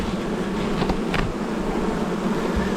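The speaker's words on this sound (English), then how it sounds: "they're bearding up on this side, but not in a bad way. Yeah, that's their entrance, of course." Honeybees buzz steadily around the entrance of a top bar hive during an inspection, a continuous close drone of many wings with a few louder passes from individual bees, no talk.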